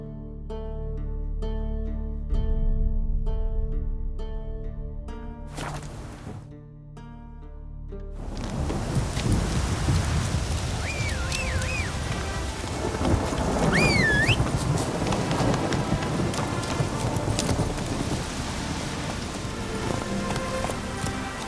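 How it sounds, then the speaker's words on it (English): Rain falling in the video game Witcher 3: Hearts of Stone, a steady wash of rainfall with low rumbling thunder, beginning after a short stretch of game music and continuing evenly at moderate loudness. "It's raining."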